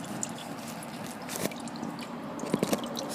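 Engine oil drips from the filter mount of a 2015 Chevy Silverado 1500 after the filter is removed, with a few soft, close drip and squish sounds over a steady low background.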